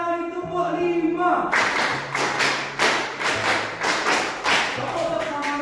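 A class claps together in a rhythmic pattern, two quick bursts of five claps each, loud and close, with a voice speaking briefly before.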